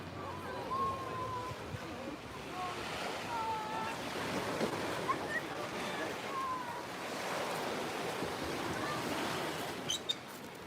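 Surf washes steadily onto a Baltic Sea beach at Zelenogradsk in the Kaliningrad region, a continuous soft roar with wind buffeting the microphone and faint voices in the background.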